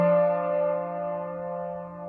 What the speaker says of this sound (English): we're going to call that one harmonic because they're happening at the same time